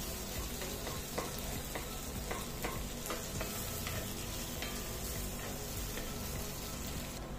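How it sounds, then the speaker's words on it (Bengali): Onion rings frying with boiled bitter gourd in a pan, a dense, even sizzle with scattered crackles and stirring clicks running throughout, close and fairly quiet, without speech. "পিয়াজটো ইয়াৰ লগত ভাজিম"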